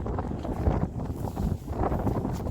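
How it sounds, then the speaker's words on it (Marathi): Strong, gusty wind on a mountain trek near Choravane, Ratnagiri, roaring steadily against the microphone in a loud, continuous buffeting rush with no voices. "लय सोसाट्याचा वारा आहे"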